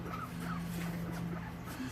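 A small dog whimpers and vocalizes in short, faint yips and whines while getting a haircut with scissors, close by over a steady low background hum.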